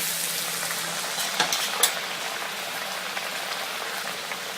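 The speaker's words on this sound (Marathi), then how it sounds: "तेल चांगलं तापल्यावरच हे वडे आपल्याला यात घालायचे आहे" Malvani chicken vade (kombdi vade) frying in hot oil, a steady dense hiss of bubbling oil with a few brief crackles and pops, close and even throughout with no talk.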